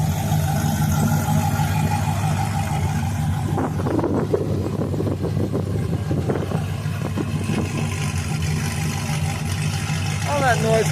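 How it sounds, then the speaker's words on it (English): A Cadillac engine rumbles steadily at idle at a car show, a low continuous drone close by, with people talking over it. "All that noise from the Cadillac,"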